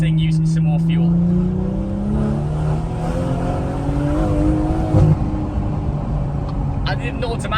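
A car engine pulled hard in second gear at full throttle toward about 3,500 rpm, its droning note climbing steadily in pitch and loudness while boost builds.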